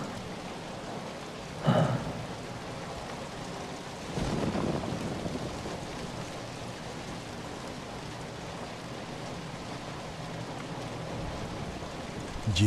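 Steady torrential rain hisses without pause as a dense, even wash, with a couple of louder rumbles that suggest distant thunder and no voices.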